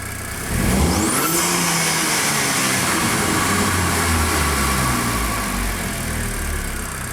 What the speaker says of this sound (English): I'd now like you to do another full throttle test for us, please